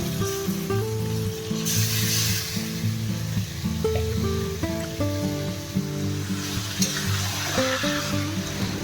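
Marinated chicken with onion and ginger-garlic paste fries in a pan for Golbari-style chicken kosha, a steady broad sizzle running the whole time beneath a louder layer of tuneful background music.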